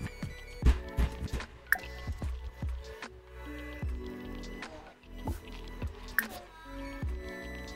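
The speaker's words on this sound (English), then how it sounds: "he poured a drink on her" Liquid from a drink splashes and drips onto a woman in a TV drama scene, with a wet squish and scattered drips close by amid faint background movement.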